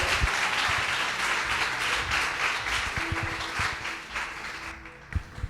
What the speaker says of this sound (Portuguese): E dê um aplauso bem forte em nome do Senhor.